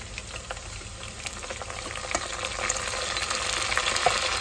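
Browned onions with bay leaf and mint sizzle steadily in a pan while being stirred, with faint crackles and soft scraping, close and moderately loud throughout.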